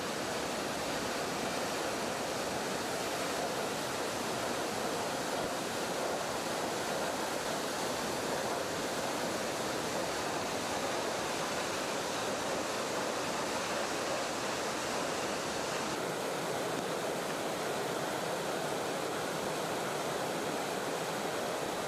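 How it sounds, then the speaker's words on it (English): Middleham Falls, a large waterfall dropping about 60 meters on a Caribbean island, gives a steady, dense roar of falling water that stays loud and unbroken throughout. "Middleham Falls is the island's largest waterfall, with water loudly spilling over the falls some 60 meters down."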